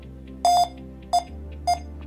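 A Tantos iPanel 2 WG intercom video panel with card reader gives three beeps: a longer tone, then two short ones, clear and close against a low steady hum.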